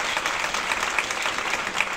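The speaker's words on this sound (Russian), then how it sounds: "Сейчас предлагаю поблагодарить его за работу аплодисментами." Applause from a seated audience at a formal thank-you ceremony for a deputy, a continuous even rattle of clapping hands, loud and close, with no voices over it.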